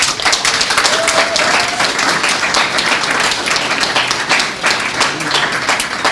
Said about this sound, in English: So a big hand of applause,